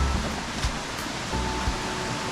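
Pundakit Falls in the Philippines, a wide waterfall near a river mouth heading to the sea, gives a steady broadband rush of falling water that stays constant and fairly close throughout, with no talking.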